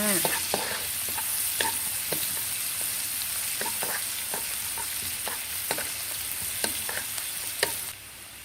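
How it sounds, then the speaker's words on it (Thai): Garlic fries in hot oil with a steady, bright sizzle, punctuated by repeated scrapes and taps of a utensil stirring the pan, before the sizzle drops away abruptly near the end. "ใส่กระเทียมลงไปกระเทียม เดียวกระเทียมให้เหลืองๆก่อนจ้า"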